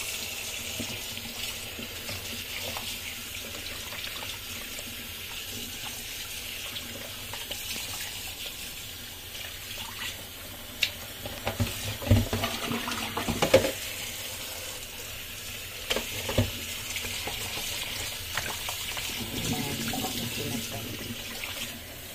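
Water runs steadily from a tap into a sink for a long stretch, with occasional splashes and knocks of washing ingredients for a Chinese herbal soup, and faint talk.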